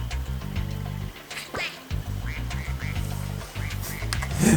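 Ducks in Spyro 2 Reignited Trilogy give a few short quacks over a steady low game hum and music, moderately loud and scattered through the stretch, with no talking.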